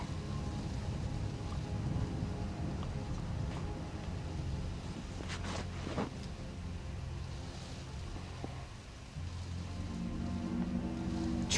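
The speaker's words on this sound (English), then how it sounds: "There's rain outside. That's what it sounds like." Steady rain hisses outside, a continuous wash of noise with low rumbling underneath and a brief brighter patch in the middle.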